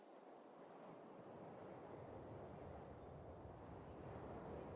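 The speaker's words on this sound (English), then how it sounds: "The ocean?" Ocean surf rolls in the video game 1000xResist, a broad, steady wash of waves with a windy hiss that swells slightly over a few seconds, moderately loud and unbroken, with no talking.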